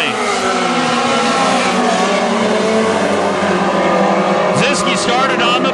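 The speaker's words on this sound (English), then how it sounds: "Green flag out, and there goes Ziske turning it loose in the 24 car" Dirt track race cars roar as they accelerate off the green flag at Granite City Speedway, a loud, dense and continuous engine drone with a commentator talking over it throughout.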